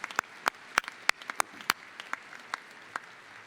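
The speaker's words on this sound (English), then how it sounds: "let's give a round of applause as we web stream and congratulate these graduates" Sparse, scattered applause for graduates at the UW-Parkside commencement ceremony in December 2019: a few individual claps ring out separately at an uneven pace over a quiet room, moderately near and fairly soft.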